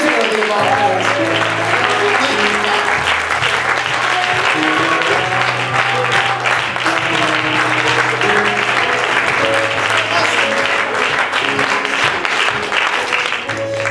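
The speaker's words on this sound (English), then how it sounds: "Let's give him a round of applause tonight, because he's worthy of all" Sustained applause from a church congregation fills the room, dense and steady from start to finish, with sustained tones and voices mixed in underneath.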